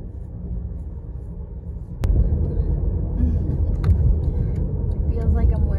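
Low, steady road rumble from inside a moving car, with a muffled engine and tire drone that swells slightly after a thump, while a person talks over it.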